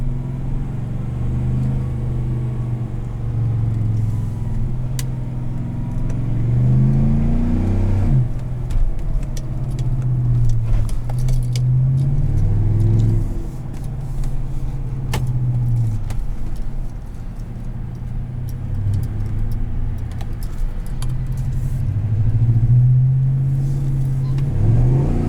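Engine of a 2016 GMC Sierra 1500 SLT pickup truck, heard from the cab with the rear window open, drones loudly and steadily, rising in repeated acceleration pulls and settling back between them.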